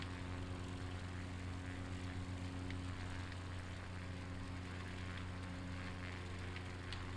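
A seaplane's propeller engine drones steadily and loudly in Microsoft Flight Simulator, a constant low hum with no breaks and no voices.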